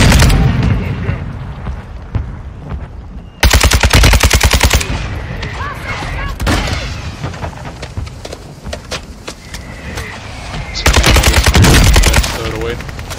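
Rapid automatic gunfire and bursts in a multiplayer video game shooter, loud volleys from about 3.5 to 5 s and again near 11 s, with quieter scattered shots between, mixed with faint game effects and occasional voice chatter.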